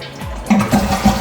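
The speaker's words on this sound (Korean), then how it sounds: "이제 화장실 물은 잘 내려갑니다." A household toilet flushes with a gurgling rush of water right after its faulty flush valve was repaired, close and clear with no talking.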